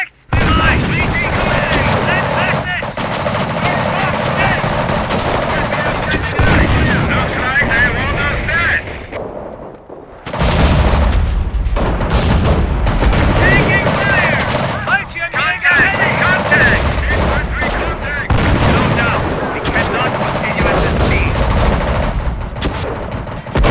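Dense, loud gunfire and booming artillery fill a World War II battle in the Company of Heroes video game, with near-constant shots and blasts, one brief lull, and voices occasionally heard amid the firing.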